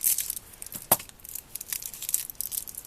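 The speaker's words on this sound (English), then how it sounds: "We'll cut the little bag open." Close, crisp crinkling and snipping as a small plastic bag from an electro-magnet toy swing kit is cut open, with one sharper snip partway through.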